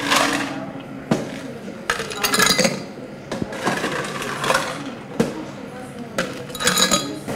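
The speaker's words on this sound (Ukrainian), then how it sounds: "Насипаємо лід." Ice is poured into a glass for a non-alcoholic mojito: a run of irregular, bright clinks and rattles, close by, with quieter gaps between bursts.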